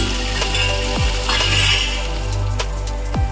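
Onion, garlic and green chillies fry in hot oil with cumin seeds, the start of an Assamese fish dish, giving a steady close sizzle and hiss with a few sharp clinks of a utensil against the pan.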